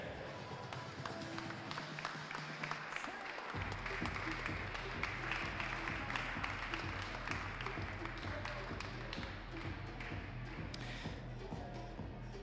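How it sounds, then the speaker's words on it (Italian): An audience applauds the women's podium at the Italian bouldering championship finals, with steady clapping from a crowd in an indoor venue and a thumping music beat underneath. "facciamo un applauso a quello che è il podio e il medagliere femminile"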